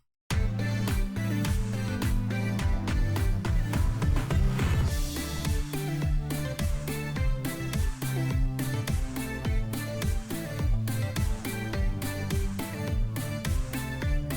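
The drop section of a self-made electronic song: a punchy, steady four-on-the-floor beat with bass and synth layers, loud and driving throughout, with a brief sweep-like build midway.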